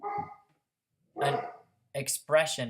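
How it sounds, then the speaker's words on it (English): A pet dog barks in the background, a few short barks near the start before someone speaks over the rest. "that's my dog in the background there"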